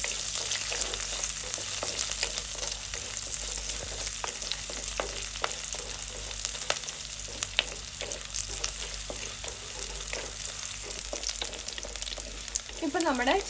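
Shallots and curry leaves fry steadily in a pan, a continuous close sizzle with repeated scraping stir strokes throughout, a faint voice briefly at the end.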